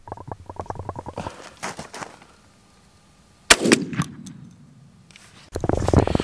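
A shotgun fires Federal or Migra shells at a pattern-test target outdoors, one sharp loud blast standing out amid rattling handling noises and a later rustle of movement.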